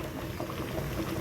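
Water boils steadily in a pot while sweet corn steams, giving a soft, continuous bubbling patter at close range and moderate loudness.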